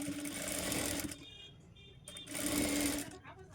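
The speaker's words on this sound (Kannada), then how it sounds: "ಇವಾಗ 1 ಇಂಚಿಗೆ ಮತ್ತೊಮ್ಮೆ ಮಡಚ್ಕೊಂಡು ಸ್ಟಿಚ್ ಮಾಡ್ಕೋತಾ ಇದ್ದೀನಿ." A sewing machine stitches the one-inch folded hem of a blouse sleeve in two close, loud bursts of rapid whirring with a brief pause between them.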